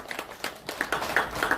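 A church congregation claps during a prayer meeting: moderate, somewhat uneven applause from many hands, fairly close, with a few sharper claps standing out.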